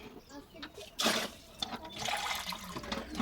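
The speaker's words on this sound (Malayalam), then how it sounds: "നമുക്ക് അതിനകത്തേക്കും കൂടെ കുറച്ച് വെള്ളം ഒഴിക്കണം" Water splashes and gurgles briefly as it is poured into a container of rubber latex mixed with acid, with a short loud gush midway, and a voice talks over it.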